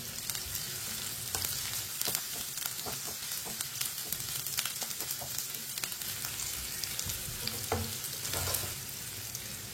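Finely chopped onion fries in hot oil in a pan, a dense, crackling sizzle with frequent sharp pops and stirring scrapes, close and steady throughout with no voices.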